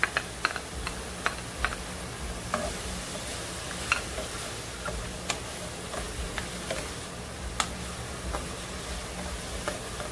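Onion sizzling in a pan for pork ribs adobo with black salted beans, a steady broadband fry with scattered sharp ticks and pops, close and moderately loud, no talking.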